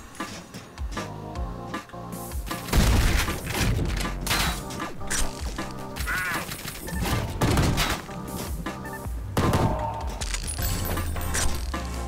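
Rapid bursts of gunfire and heavy impacts from the retro shooter game Ion Fury, dense and loud, layered over a pounding in-game soundtrack with crashes and mechanical clatter throughout.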